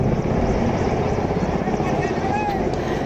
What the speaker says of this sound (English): MI-17 helicopters have been deployed to rescue people trapped mid-air on the ropeway